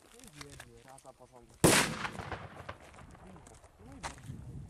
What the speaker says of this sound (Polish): No i fajna petarda.